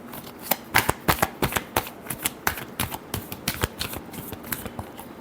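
Tarot cards shuffled by hand in a quick run of crisp riffling flutters and soft slaps, close up and moderately quiet, with no talk.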